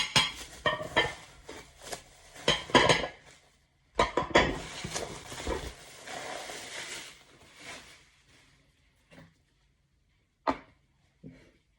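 Plastic dishes clatter and knock together in bursts of handling, followed by a few scattered light taps and long quiet pauses.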